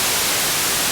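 Steady hiss of white noise from the noise oscillator of an Arturia MiniFreak synthesizer, broadband and loud, holding constant with no other sound for under a second.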